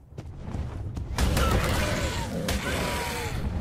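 Gunfire in the video game ARK Survival Evolved, a series of sharp shots and bursts over a busy, continuous game soundscape, growing louder after the first second.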